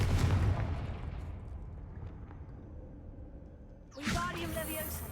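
Confringo explosive spell cast in Hogwarts Legacy, a loud low boom that rumbles and slowly fades over several seconds, followed by a fresh burst of crackling magical effect near the end.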